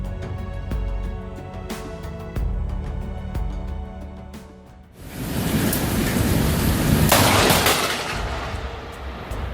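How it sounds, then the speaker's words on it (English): A lightning strike lands close by, and a heavy, crashing thunderclap breaks over steady rain on surfaces. Loud rumbling follows and lingers several seconds in the stormy downpour. "witnessing lightning strike so close is a once-in-a-lifetime experience, something to remember forever"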